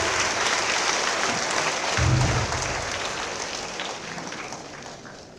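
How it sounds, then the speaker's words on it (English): At a school event, an audience breaks into a big round of applause, a thick, continuous crowd clatter that swells briefly midway and then gradually eases off. "Big round of applause."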